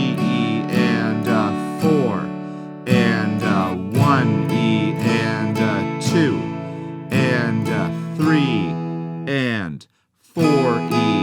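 An acoustic guitar strums a song's chorus chord progression in steady rhythmic bursts with ringing chords, one brief silent break near the end before the strumming resumes.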